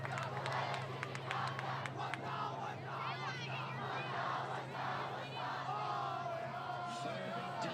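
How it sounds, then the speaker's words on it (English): A high school football crowd in the stands yells and cheers in a continuous roar, moderately distant, with scattered shouts and some clapping, and voices talking over it. "Crowd is getting into this one."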